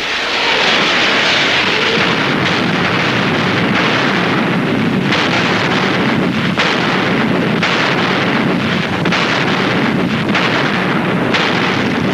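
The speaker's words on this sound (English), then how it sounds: "Zhukov's long-range artillery opened fire on the city" Long-range artillery fires on Berlin in a dense, continuous roar of loud booms and rumbling blasts, with the firing and explosions blending together in heavy battle noise.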